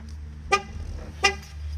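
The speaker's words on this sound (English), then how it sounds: "you hear that the horn honks twice" Car horn honks twice during a tire pressure sensor relearn, two short sharp toots about 0.7 seconds apart over a low idle rumble, close and clear.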